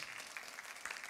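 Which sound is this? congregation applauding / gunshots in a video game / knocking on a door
congregation applauding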